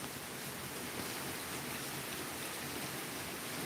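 Heavy rain pouring outdoors, a dense steady hiss of falling water with no breaks, moderately quiet and unaccompanied by voices.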